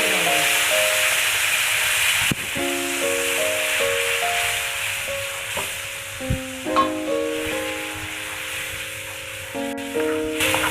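Ground tomato and chili paste with turmeric hits hot oil in a pan for tempering, a loud continuous sizzle and hiss with occasional stirring rattles and spoon clinks.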